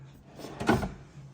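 A hidden hotel-room drawer at a Universal Studios resort slides shut with a soft-close action, giving one gentle, muffled thud near the middle, close by and fairly quiet, with no talking.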